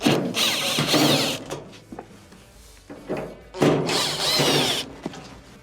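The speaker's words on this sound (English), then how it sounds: "Remove the 2 Phillips screws" A power screwdriver whirs in two sustained bursts removing Phillips screws from an LG dryer, separated by a pause with small clicks and knocks, close and loud.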